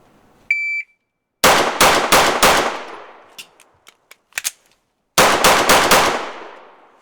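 A shot timer beep, then pistol shots from an S&W Carry Comp 2.0 or Walther PDP in a 7-yard reload drill: four rapid loud cracks, a pause filled with metallic clicks and handling noise, then four more quick cracks.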